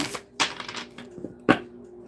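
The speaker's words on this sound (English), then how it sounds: "let me give you some good shuffles in here" Quick papery riffling bursts of tarot cards being shuffled, a few separate shuffles with short pauses between them, close and fairly crisp.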